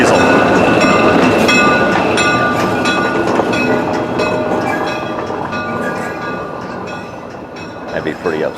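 A diesel locomotive pulls the Santa Express holiday train through the woods, with a loud, continuous rolling rumble and wheel noise that eases slightly toward the end.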